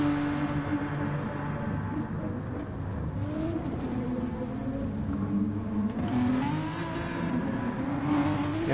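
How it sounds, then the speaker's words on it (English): Engines of GT race cars in a simulated endurance race at Spa-Francorchamps drone and rise and fall in pitch as the cars accelerate and shift, forming a continuous layered engine roar with no talk over it. "fantastic noises and engine noise, variety of machines here in the ARS World GT Series"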